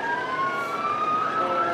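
A loud, steady siren wails from Wells fire trucks rolling through the 2015 Christmas parade in Wells, Maine, with two bright tones sliding slowly and continuously over street rumble.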